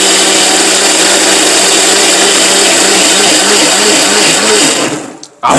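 An electric blender grinds ginger and garlic with a loud, steady whirring roar that runs unbroken for about five seconds, then cuts off abruptly.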